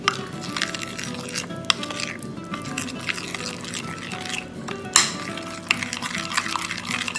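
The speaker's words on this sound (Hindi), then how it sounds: "तो हम इन सब चीजों को अच्छे से मिक्स कर लेंगे।" Chicken marinade ingredients with lime being mixed in a bowl: continuous scraping and stirring with scattered light clinks of a utensil against the bowl, close and alone without talk.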